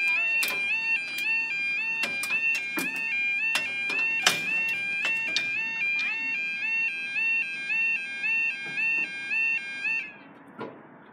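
A level crossing warning alarm at Womersley Road in Knottingley, West Yorkshire, sounds a steady repeating two-tone electronic pattern. Sharp knocks and clicks break in over it, and it cuts off and fades just before the end.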